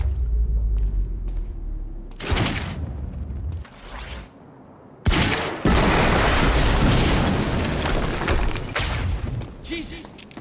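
An explosion in the video game Quantum Break booms loudly and suddenly, with a deep rumbling blast and crackling debris that stays sustained for several seconds.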